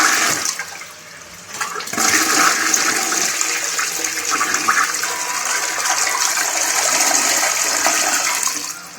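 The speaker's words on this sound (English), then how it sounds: "Give it a flush again." An old toilet flushes close by, a loud steady rush of water gushing for several seconds after a brief quieter start, with no voices.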